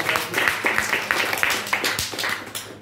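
A church congregation claps during a sermon at a revival service, a run of fairly quiet, loosely rhythmic hand claps from a moderately sized group.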